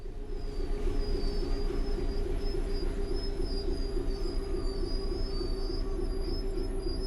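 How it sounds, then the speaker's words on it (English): A Class 66 diesel locomotive in DB red, driven in Train Sim World 5 on the West Coast Main Line, rumbles steadily as it brakes to a stand, with a thin high brake squeal running throughout. "I have notched back to 0 on the throttle. And I'm now going to apply a bit of brake."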